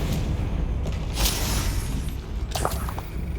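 A Confringo blasting spell in Hogwarts Legacy erupts amid a dense, rumbling combat bed, with a couple of sharp bursts and crackles standing out over the steady low roar.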